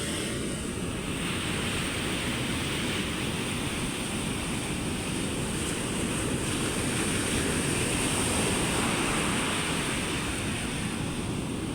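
A river swollen after a typhoon rushes past in a dense, constant roar of churning water, loud and close with steady wind-like noise and no voices.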